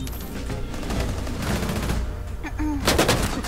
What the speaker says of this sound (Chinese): 我现在一大堆手枪声